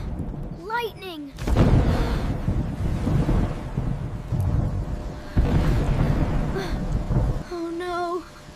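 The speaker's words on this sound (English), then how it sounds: "Thunder is so loud!" A loud, deep rumbling roar swells and rolls on for several seconds, with brief voiced sounds at the start and end.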